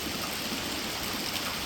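Rainwater runs along a roadside in Portland during a downpour, a steady, broad wash of flowing water and rain noise that stays even and continuous throughout, with no voices.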